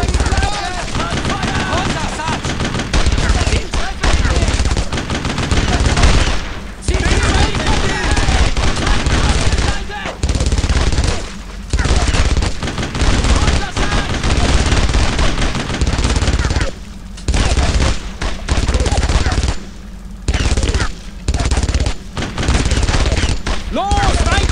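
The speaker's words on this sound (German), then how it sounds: "Belegt sie mit Sperrfeuer! Los, Feuer!" Dense, continuous gunfire and rapid machine-gun bursts from the World War II shooter Brothers in Arms: Road to Hill 30, loud and relentless with only brief gaps, while voices shout orders over the battle.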